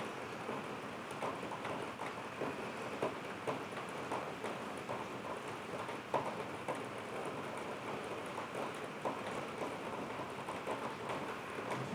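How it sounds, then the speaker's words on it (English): Rain falls steadily outside, a soft, faint hiss with light irregular patter that continues evenly from start to finish. No one speaks. "I'm digging the rain today myself."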